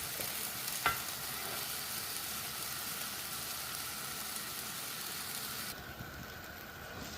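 Chicken and ground curry masala sizzle and fry in a pan for a village-style country chicken curry, with a steady close frying hiss and a brief scrape of stirring near the start. Nobody speaks.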